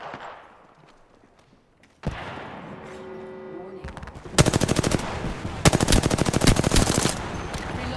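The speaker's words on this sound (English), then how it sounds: "Shooting at me." Machine gun fire in Apex Legends, a quiet opening followed by loud rapid bursts of automatic gunfire in two long strings, close and sharp, with in-game sounds between them.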